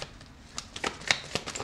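Soft riffling and snapping of tarot cards being shuffled, several quick bursts close by, fairly quiet, with no voices.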